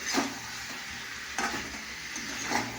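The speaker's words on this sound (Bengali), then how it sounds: "ভালো করে একটু নাড়াচাড়া করতে হবে।" Food being stirred in a cooking pot over a steady low sizzle, with a few scraping strokes from the spoon close by.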